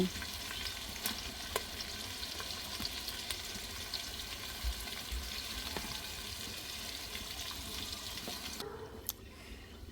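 Mutton cooking with nut paste in a home kitchen, a continuous soft sizzle and frying hiss with occasional scraping stir clicks, fairly quiet and close, with no talking over it.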